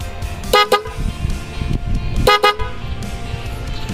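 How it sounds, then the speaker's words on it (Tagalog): Smok Viper horn fitted to a Suzuki Avenis 125 scooter, blasting two loud close double honks about two seconds apart, each a quick pair of sharp toots over background traffic noise. "Yun yun ang ating smoke viper horn set."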